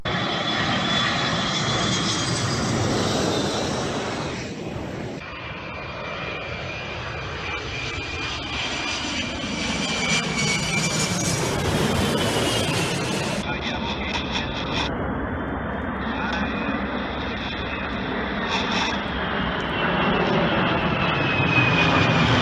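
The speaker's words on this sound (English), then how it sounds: "Here are some videos of planes releasing material that'll help prevent and put out wildfires." A loud, steady roar of firefighting airplane engines droning overhead for a long stretch, the pitch shifting slightly as the aircraft pass.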